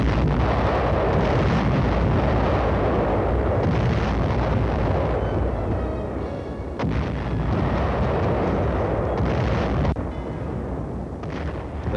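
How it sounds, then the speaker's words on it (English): Artillery shelling of enemy defenses around San Pietro in wartime Italy, a continuous heavy rumble of booms and blasts that swells and dips, loud and dense with no speech. "Now our artillery pounded and repounded the enemy defenses guarding San Pietro."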